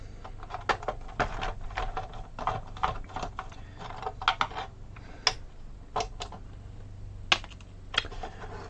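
Screws come out of a ZX Spectrum Plus case in a run of faint, irregular ticks and clicks from metal and plastic, close up and quiet, with no talking.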